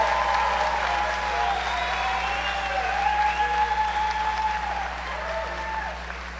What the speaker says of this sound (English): Would you please give a round of applause to the Electrical Tech class of 2018.